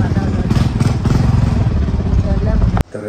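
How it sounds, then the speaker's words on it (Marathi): A motorcycle with a torn silencer runs close by, a loud rough engine rumble that cuts off abruptly near the end. "गाडी थांबत बघा माझ्या सायलेन्सर फाटलाय ना"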